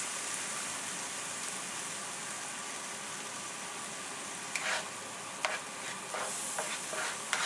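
Tomato sauce cooks in a pan for corned beef with potatoes, giving a steady close sizzle and bubbling hiss. A few sharper scrapes of stirring break through in the second half, with no talk.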